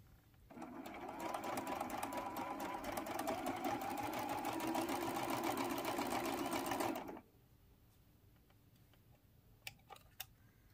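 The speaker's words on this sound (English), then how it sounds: "So at the sewing machine, I have my quarter inch seam allowance set." A sewing machine stitches a quarter-inch seam on a t-shirt quilt, running steadily for about six and a half seconds, a fast rhythmic whir and tapping, then stops, leaving a quiet room with a few faint clicks.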